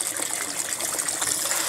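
Water pushed by a pump in an above-ground garden pond gushes and trickles steadily, a close, busy splashing that carries on throughout without speech.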